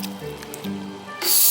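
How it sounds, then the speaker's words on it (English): Water from a glass is poured into a bowl of ground egusi seeds before blending, a short wet splash that swells into a louder, brighter rush of pouring at the end, close and without speech. "I'm just going to add in a glass of water here."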